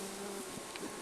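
Honeybees buzz densely around a beehive frame, a steady close hum filling the whole moment with no voices.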